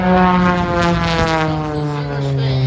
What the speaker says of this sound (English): the torque of the engine takes over and starts to spin the aircraft further